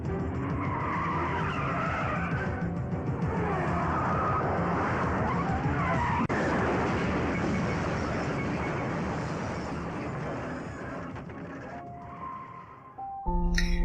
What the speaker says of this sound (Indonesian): Kemudian Abhay langsung mengejar mobil itu.